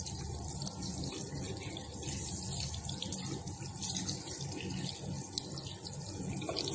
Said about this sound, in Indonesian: bilas tangan dengan air bersih yang mengalir sampai sabun akan hilang